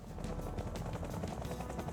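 A video game helicopter flies along with a dense, steady rotor rumble and a quick rhythmic thump that holds at an even level throughout.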